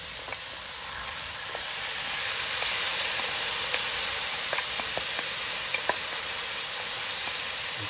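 Potatoes sizzling in a pan with softened white onion, a steady close frying hiss with faint crackles and pops.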